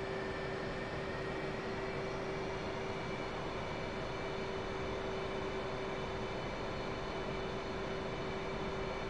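F/A-18C Hornet twin jet engines held at half power during a carrier startup in DCS, a steady, dense roar with a sustained high whine running throughout, loud and constant with no talk.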